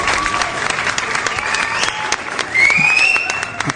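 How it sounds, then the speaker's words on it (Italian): Applause for Ciro Imperato on a live radio show, a burst of crowd clapping with a rising whistle-like tone and some voices blended into it, fairly loud throughout. "Applausi, applausi per Ciro Imperato, complimenti."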